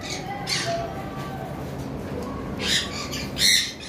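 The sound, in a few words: opaline Fischer's lovebirds squawking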